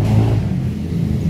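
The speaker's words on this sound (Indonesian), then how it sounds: "ada motor lewat." A motorcycle passes on the street, a brief loud engine rumble with a low droning tone that stays steady over about a second.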